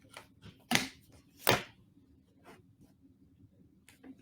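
Two sharp, quick cutting strokes slice through a Drunkard's Path quilt fabric block, close and crisp against a quiet room, followed by faint shuffling handling.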